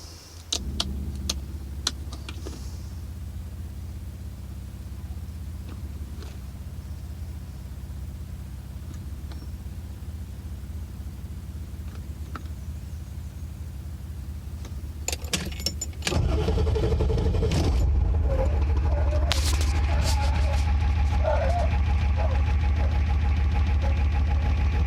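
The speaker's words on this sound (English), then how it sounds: "I'm gonna crank it up." A 1985 Ford F350 with a 6.9 IDI diesel, slightly warm, sits quietly before its starter cranks and the engine catches around the midpoint, settling into a loud, steady diesel idle close by.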